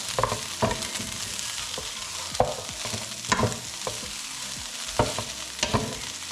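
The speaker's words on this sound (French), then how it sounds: "on va en profiter pour tourner les patates" Garden potatoes frying in duck fat with garlic sizzle steadily in a pan while a utensil turns them, giving a string of sharp scraping knocks over the constant frying hiss.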